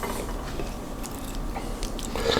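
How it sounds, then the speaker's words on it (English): Close-up crunching and chewing of crispy baked cheese and lasagna noodles, a steady crackly texture with a few sharper bites. "That's the cheese and the noodle crunching up on me."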